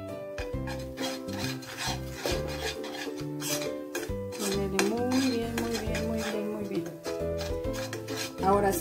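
A utensil stirs and rubs steadily against a pan of gravy made with chicken bouillon, giving close, continuous scraping and swishing sounds against a busy background with harmonic tones.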